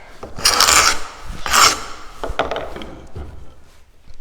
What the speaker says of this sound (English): So we're going to scrape the glue.